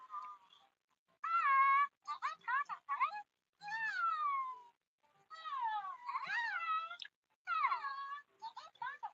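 Two cartoon cats in a video game meow and chirp back and forth in a rapid series of short, high, bending calls separated by brief silences.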